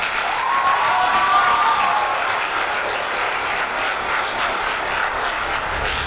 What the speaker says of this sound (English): Let's all give a round of applause for Mel.